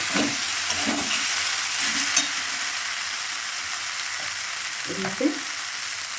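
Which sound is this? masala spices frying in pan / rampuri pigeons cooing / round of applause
masala spices frying in pan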